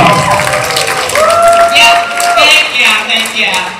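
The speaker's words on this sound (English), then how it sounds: "Come on, give her a round of applause." Audience at a youth diversion summit in Madison, Illinois bursts into loud, close applause mixed with cheers and shouts, sustained throughout with excited voices over the clapping.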